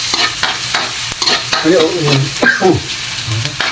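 Onions sauté in a pan for adobong baboy with isaw, a spoon scraping and stirring through them in bursts over a soft sizzle.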